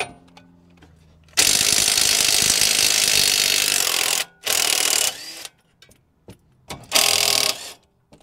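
A ratchet works loose the bolts on a Peugeot 308 GTi being lowered, giving three bursts of rapid, loud metallic clicking separated by short pauses, with faint handling noises between them.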